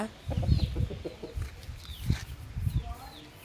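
A strong rooster, fed on cashews, clucks in short low bursts, with a few quick groups of calls spread across the moment at close range.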